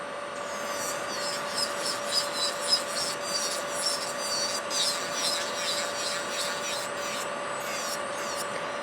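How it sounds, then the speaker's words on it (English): Nail file rubbing across a 3D gel rose nail, a soft, fast, rhythmic rasping heard close up over a steady background hum. "And I'm just filing through it."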